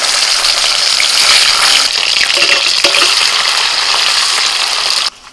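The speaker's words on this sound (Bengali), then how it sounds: "তেল গরম হয়ে গেছে, পনিরগুলো ভেজে নেব।" Paneer pieces frying in hot oil in a village-style kitchen, a loud steady sizzle with crackling that holds for about five seconds before cutting off abruptly.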